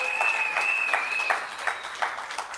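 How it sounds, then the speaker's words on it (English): Applause from an audience at a UNC event, a steady wash of many hands clapping with a faint sustained tone at the start, loud and close. "Give him a round of applause."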